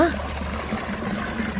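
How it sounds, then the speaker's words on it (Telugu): Water gushes and trickles steadily from a motor pump pipe drawing from a step well in a Tamil Nadu village, a continuous splashing flow with a low motor hum and someone speaking briefly. "దానిలోంచి మోటార్ వేశారు, ఇలా నీళ్ళు వస్తున్నాయి."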